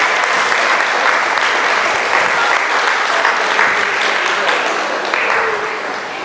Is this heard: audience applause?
yes